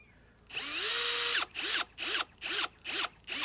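A power drill drives screws into pilot holes in a wooden kicker ramp: one long whirring run, then five short rhythmic bursts close by, with no talk.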